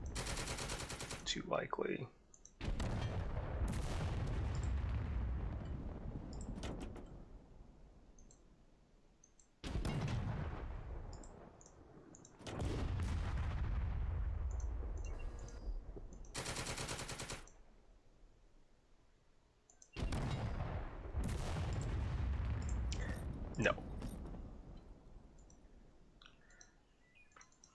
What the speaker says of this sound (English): Let's see if we can at least suppress some of the covering machine guns.